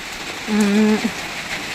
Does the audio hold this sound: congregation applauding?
no